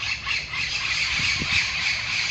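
Many parrots squawking together in a dense, continuous chorus of harsh high calls, fairly loud and steady throughout, with no one talking.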